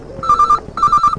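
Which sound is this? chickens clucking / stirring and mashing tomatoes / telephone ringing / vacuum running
telephone ringing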